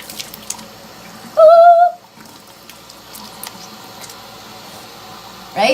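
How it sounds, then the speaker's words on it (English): Cold water runs from a bathroom sink tap during a face-rinsing skincare routine, a steady low splashing hiss broken by a short, loud tonal squeal near the start and a brief burst near the end. "I can turn on the cold water so that it's not super hot"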